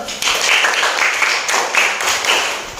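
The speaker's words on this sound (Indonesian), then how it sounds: "Tepuk tangan dulu" Schoolchildren in a classroom clap their hands together in a fairly loud, uneven patter with a few sharper accents, lasting under three seconds.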